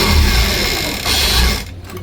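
Sewing machine stitching the neck of an angrakha garment, a loud close-up continuous mechanical whir that briefly eases and resumes before slowing near the end.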